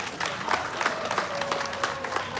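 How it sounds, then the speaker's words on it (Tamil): An audience applauds a temple priest at a Hindu temple ground-breaking ceremony, steady dense clapping sustained throughout at moderate loudness, with a faint voice underneath. "இவருக்கு நல்ல ஒரு சிறப்பான ஒரு கைத்தட்டு கொடுங்க"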